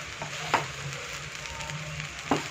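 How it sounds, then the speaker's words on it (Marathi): Roasted peanut powder being stirred into sabudana khichdi in a pan, with a low steady sizzle and two distinct spoon scrapes against the pan, close and moderately quiet. "हे आता आपण शेंगदाण्याचं कूट घातलेलं आहे, हे एकदम व्यवस्थित मिक्स करून घ्या खिचडीमध्ये।"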